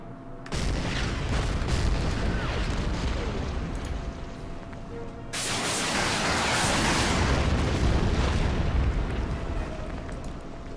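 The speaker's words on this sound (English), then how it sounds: "Now this is where the artillery comes in handy." Artillery strikes in the strategy game Order of Battle: Panzerkrieg, two long rumbling explosion blasts in sequence, the second fuller and more sustained, loud and booming.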